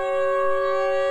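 A siren wails in a horror game featuring a siren-headed creature, a loud, steady, multi-toned blare that holds at constant pitch from start to finish with nothing else heard.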